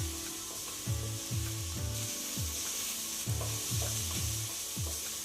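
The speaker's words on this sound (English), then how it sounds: "Next I'm putting in some lovely red capsicum." Red capsicum fries in a pan with browned beef for a Mediterranean ragout, a low steady sizzle under repeated scraping strokes of a wooden utensil, close by with no talking.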